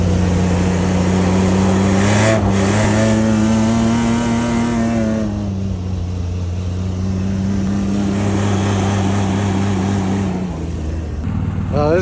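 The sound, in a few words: Nissan Pathfinder engine revving while stuck off-road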